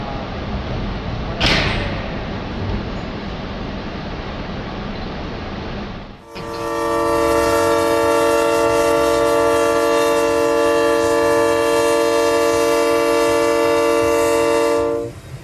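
A modern high-tech passenger train sounds a long, loud, steady horn that cuts in midway and holds for about nine seconds, after a stretch of rumbling rail noise and a brief sharp clank near the start.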